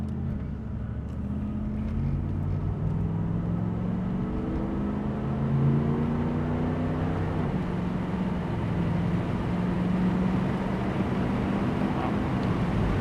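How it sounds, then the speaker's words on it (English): A 1987 Chevrolet Camaro IROC-Z cruising at about 70 mph, with a steady low engine drone and rising, falling gear tones over continuous road and wind noise, heard from inside the car with no talking. "Going 70 miles an hour for an 87 Camaro."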